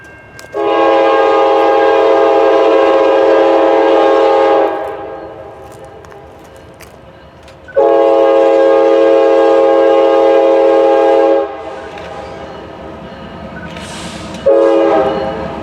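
An eastbound freight train's horn blasts in two long, loud sustained bursts separated by a pause, with rumbling rail noise underneath and a third blast starting at the end.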